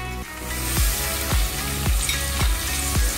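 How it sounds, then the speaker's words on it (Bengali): Chopped onions sizzle steadily in melted butter in a pan, with a soft stirring scrape repeating about once every half second, close and moderately loud, no talking. "just let the butter melt, adding the chopped onions"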